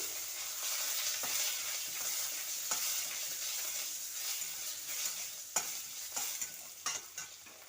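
Dried red chilli and Indian olives fry in hot mustard oil with a steady, bright sizzle, broken by a few sharp stirring clatters from the pan near the end.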